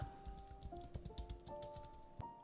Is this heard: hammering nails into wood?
no